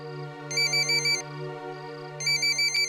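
A telephone rings in a household scene from a TV drama: an electronic ringtone sounds in two bursts of rapid high beeps over a sustained low tone, with no voices.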